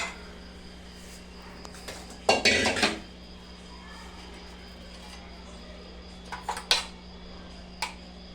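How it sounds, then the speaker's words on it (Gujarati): Moong beans stirred in a metal pot while cooking a Gujarati mag nu shaak: a short burst of clanking and scraping, then quieter clinks later, over a low steady hum. "મગને બરાબર મિક્સ કરી લેવા."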